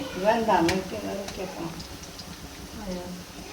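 Beef cutlet masala with potatoes is stirred in a pan, giving soft scraping and gentle sizzling with a few brief utensil ticks, while someone talks over it.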